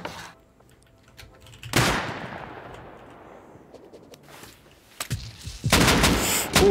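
Auto-turret gunfire in a survival video game: a loud burst with a long decaying tail, then a sharper cluster of shots and a dense, sustained volley at the end.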